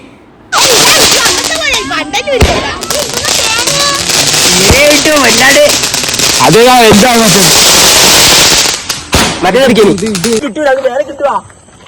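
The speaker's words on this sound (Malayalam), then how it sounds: "പിന്നെ നമ്മൾ പൊട്ടാസ് പൊട്ടിക്കാൻ തുടങ്ങി." Potas cap firecrackers burst during Vishu celebrations in a run of sharp, loud cracks and snaps, some in quick bursts, while excited people talk and shout close by.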